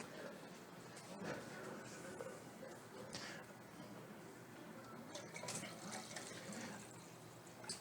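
Water poured from containers into a pot of lentil soup, a faint, steady splashing trickle with brief louder gushes, quiet and close.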